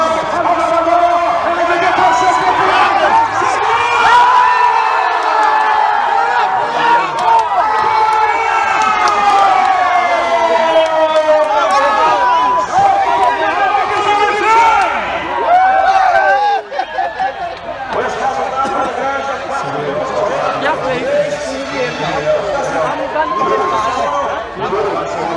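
Large crowd cheering at a rodeo event with bulls: a loud, continuous roar of cheers and shouts from many people, rising and falling over about twenty-five seconds, with voices talking up close throughout.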